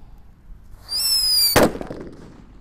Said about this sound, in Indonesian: Lanjut ini ada mercon Happy Power 3 yang sering kita gunakan untuk buntelan kertas.